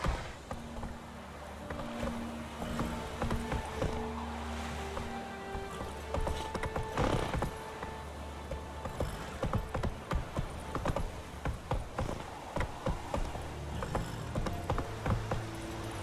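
A horse gallops in The Witcher 3, a continuous drumming clip-clop of hooves over soft game ambience, with a brief whinny and scattered creaks and jingles.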